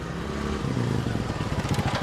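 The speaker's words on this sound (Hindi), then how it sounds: "नदी, नाले और पथरीले मार्ग को पार करती हुई शेरबाज की मोटरसाइकिल उड़ी जा रही थी" A motorcycle races across rivers, streams and rocky tracks, its engine drone steady and close, overlaid with a rattling, rumbling clatter from the rough stony ground.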